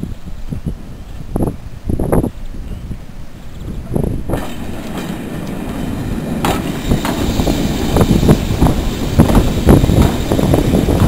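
A diesel railcar train runs near Sheringham, starting with a few scattered knocks and clanks, then building into a continuous loud rolling rumble with clickety-clack and faint wheel squeal.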